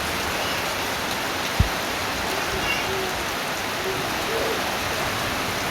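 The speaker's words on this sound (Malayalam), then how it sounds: "കഴിഞ്ഞപ്പം തൊട്ട് പെരും മഴയായിരുന്നു." Heavy rain on a Sunday morning in Kottayam, a steady, even wash of dense hiss that fills the whole clip, with one brief sharp knock early on.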